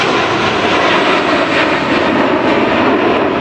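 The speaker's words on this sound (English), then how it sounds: "You can actually hear one of the airplanes taking off," A JetBlue airliner taking off near Fort Lauderdale Airport roars as a loud, steady broadband jet rush that fills the whole clip, with no voices.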